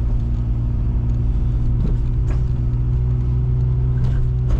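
A car drives a figure eight with a steady, loud engine rumble and road noise throughout, heard from inside or very close, with no clear change in pace.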